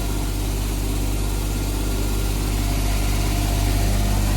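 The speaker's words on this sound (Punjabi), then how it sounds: "ਇਹ 6 ਸਿਲੰਡਰ ਇੰਜਣ ਆ ਬਾਈ ਉਹਦਾ ਟਰਪੋ ਲੱਗੀ ਹੋਈ ਹੈ ਜੀ" Farmtrack tractor with a six-cylinder turbocharged 100-horsepower engine running close by, a loud steady low rumble and drone with no breaks and no talk.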